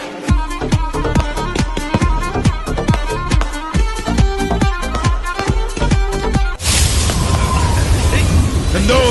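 Festival firecrackers burst in a rapid string of sharp, loud bangs for several seconds, then give way to a dense, continuous crackling roar. Voices are faintly mixed in.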